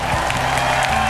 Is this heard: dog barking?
no